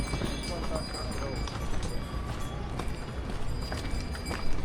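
Horse hooves clop steadily on the rough Yamunotri trek path, a continuous close rhythm of hoofbeats under background noise and people talking.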